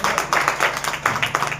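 An audience at a seminar bursts into rapid, close clapping, a quick burst of many hands slapping in a dense, loud patter.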